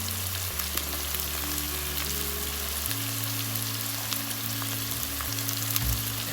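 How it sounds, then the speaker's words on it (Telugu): Masala fries in oil for Murgh Masalam, producing a dense, even sizzle with scattered crackles close by, while a low steady hum runs underneath for the whole stretch. "అన్నిటిని మంచిగా మసాలాన్ని ఆయిల్లో వేసేసి వేయించుకోవాలి."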